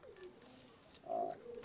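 Pigeons kept by a pigeon-flying fancier coo softly in a short, faint passage, a low murmuring call swelling briefly in the middle against quiet background.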